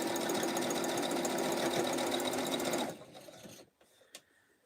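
A Brother Project Runway Limited Edition CE5500 sewing machine stitches the borders of a quilt with a loud, steady mechanical whir, then stops abruptly partway through, leaving near quiet with a few faint clicks.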